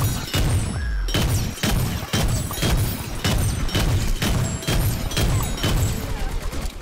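A Doom Shroom blast in the Plants vs. Zombies Garden Warfare video game, heard within a loud, dense run of repeated booming explosions and gunfire-like bursts about every half second, with no talk.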